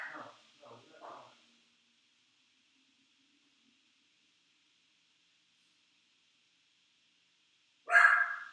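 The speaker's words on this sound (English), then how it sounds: "I was just making sure she wasn't barking at something outside" A few sharp dog barks at the start, then a long near-silent stretch, then another loud, close bark at the end.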